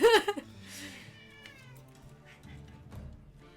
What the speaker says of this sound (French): Il est très bavard ce chat.